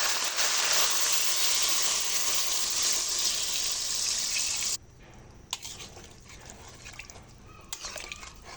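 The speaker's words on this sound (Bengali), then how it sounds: "এবার আমি দিয়ে দেবো পরিমাণ মতো পানি।" Water pours steadily into a pot of papaya and chicken curry for several seconds, then stops, leaving a few faint drips and small clatters.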